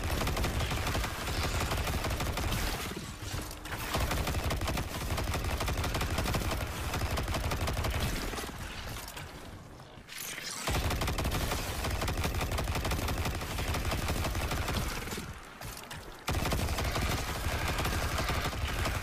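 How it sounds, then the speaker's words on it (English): Missile launcher fire in Destiny 2, a dense and loud barrage of gunfire and blasts that runs almost nonstop, with brief lulls between bursts. "As you can see, I shot a missile."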